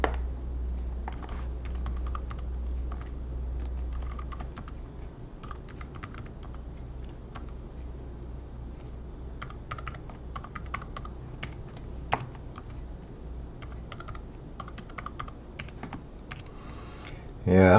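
Rapid, light clicking of fingers typing a password on a computer keyboard, close and continuous with brief pauses, over a low hum and faint background noise.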